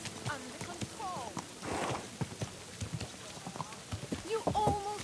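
Horse hooves clip-clop in the video game Kingdom Come: Deliverance 2, a steady run of close hoofbeats on hard ground with brief neighing and snorting, while voices talk over them.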